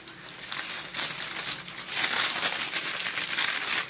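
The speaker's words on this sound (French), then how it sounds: "Je vais aussi prendre des chutes de papier pour préserver les pages." Paper scraps are crinkled and shuffled close by to cover art journal pages, a continuous dry rustling that swells in louder bursts, with no speech.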